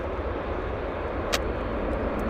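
A Boeing 777 airliner on landing rollout at Vancouver International Airport gives off a continuous broad, distant roar with no breaks.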